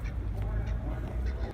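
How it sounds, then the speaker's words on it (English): Geese or similar fowl honk repeatedly in Tallinn, heard from inside a moving tram over a loud, low rumble of the ride. "They have such exotic birds here in Tallinn."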